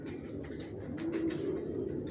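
Young racer pigeon squabs at a loft give soft, low cooing that rumbles on steadily throughout, close by and moderately loud, with a few faint higher chirps above.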